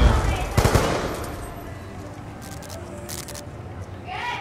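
Automatic gunfire in Call of Duty Black Ops 2 on PS3, a loud burst of rapid shots near the start followed by scattered quieter reports and game effects, with a voice talking over it.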